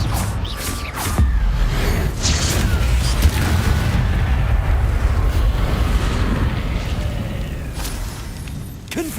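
Confringo blast spell in Hogwarts Legacy firing off with a booming explosive burst, followed by a sustained rumbling roar of fiery debris and game ambience, loud and close throughout.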